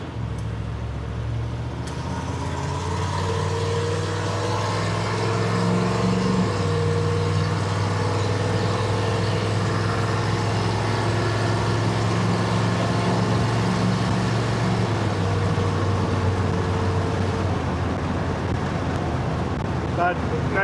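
A car with an oversized carburetor cruising at 65, a steady droning engine hum and road roar from inside the cabin, with a slight shift in engine tone midway and someone talking over it at times.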